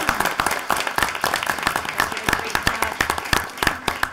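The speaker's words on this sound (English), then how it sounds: "So we give them a round of applause." Steady, moderately loud audience clapping at a school board of education meeting, with dense overlapping hand claps throughout and no talk over it.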